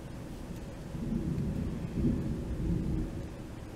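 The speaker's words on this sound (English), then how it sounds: "there's a lot of cloud to ground lightning" Low rumbling thunder from cloud-to-ground lightning rolls in the distance, swelling in two or three heavy waves over steady rain, with no voices.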